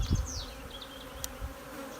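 A dense, steady buzz of many honeybees in an open twelve-frame hive fills the space up close, with a few dull knocks and a brief click.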